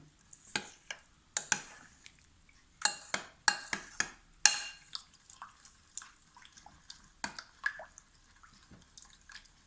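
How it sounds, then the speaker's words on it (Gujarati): Gram flour batter for khandavi being whisked smooth in a bowl, with irregular wet clicking and tapping strokes at close range, bursts of quick beats with short pauses, alone with no talk. "હવે આને સરસ રીતે આપણે મિક્સ કરી લઈશું મિશ્રણને, જેમાં લમ્સ ના પડવા જોઈએ"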